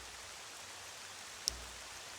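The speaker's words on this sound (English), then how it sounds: "It's raining in the background." Steady rain falls in the Zelda game as the player heads to Hyrule Castle, a soft continuous hiss with one brief click partway through, no voices.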